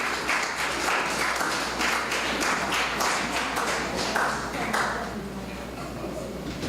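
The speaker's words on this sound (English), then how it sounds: "Another round of applause." Sustained applause fills a community after-school enrichment awards ceremony hall in Trinidad, many hands clapping steadily and fairly close, then thinning out toward the end as a voice and crowd murmur carry underneath.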